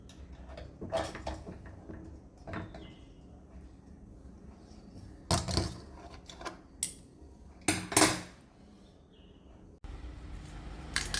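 Sweet rice balls being moved from a cooking pot into another vessel, with scattered clinks and scrapes of a utensil against metal, a couple of louder knocks mid-way, faint and close in a quiet kitchen.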